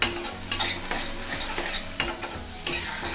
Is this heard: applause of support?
no